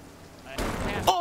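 A lightning strike hits the player during a storm in the game Sea of Thieves, a sudden loud crackling blast erupting mid-clip after a quiet lead-in.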